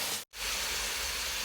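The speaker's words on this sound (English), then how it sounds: "We just added that and we're going to continue frying." Ginger garlic paste fries in a hot wok for chicken karahi, giving a loud, steady broadband sizzle that cuts out for an instant near the start, then hisses on unbroken.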